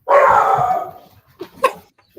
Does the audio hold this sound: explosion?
no